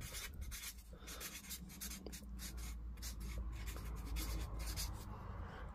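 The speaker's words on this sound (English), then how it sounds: "So we're gonna write good battery here." Pen or marker scratching out a label on a battery, a steady run of scribbling strokes close to the microphone with a low background hum, no one speaking.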